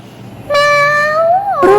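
One loud, close, long meow from a cat, sliding upward at the end into a second short cry.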